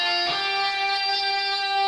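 An electric guitar holds a steady sustained note from a riff, with a brief pick attack near the start, clean and moderately quiet with no voices; the slide down is not clearly heard.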